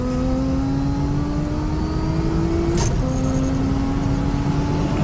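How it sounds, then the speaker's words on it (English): A Volkswagen Golf GTI with a DSG gearbox launches hard at a drag race, its engine note climbing steadily with a brief clean break at a quick gear change before pulling on, loud and continuous with no talk. "Here's Sean in his Golf GTI."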